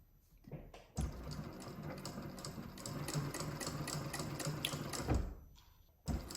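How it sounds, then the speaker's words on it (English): Sewing machine stitching while winding its bobbin at the same time: a fast, even mechanical whir with rapid rhythmic needle ticks, running steadily for several seconds between brief pauses at the start and end, close and fairly quiet. "This will wind the bobbin as you sew."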